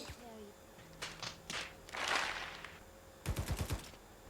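Gunfire in the Hyper Front mobile shooter: a few scattered shots early, then a tight burst of four or five rapid, punchy rounds near the end over faint game ambience and background noise.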